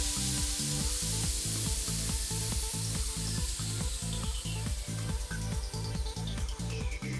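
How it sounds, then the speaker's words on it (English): Air hisses out of a low-profile tire with its valve core removed, a loud, continuous rushing spray close by, alongside a regular pulsing mechanical rumble from a tire changer. "The first step for the disassembly is letting out all the air from the tire. For that, we completely remove the valve core."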